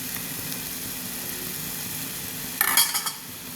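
Tomato curry being stirred in a pan, a low steady bubbling simmer with a brief burst of scraping utensil clatter near the end.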